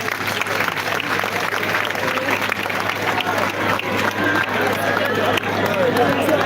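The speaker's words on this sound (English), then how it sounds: "Let's clap for all the candidates for Kawempe North" Sustained crowd applause for the Kawempe North candidates at a live political event, a dense, steady wash of clapping that carries without pause through the whole stretch, with voices mixed into the din.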